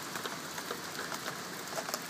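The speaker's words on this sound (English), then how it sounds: "It's starting to rain." Light rain pattering softly, scattered drops tapping a surface in a quiet, even hiss.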